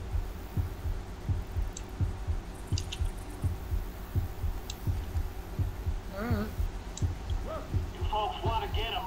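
A steady, looping heartbeat in Left 4 Dead 2 thumps at an even pace through the whole stretch, low and constant, with faint game effects and a few brief high tones near the end.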